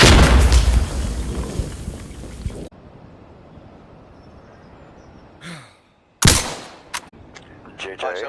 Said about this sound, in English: Gosh, that was a mean shot with that sniper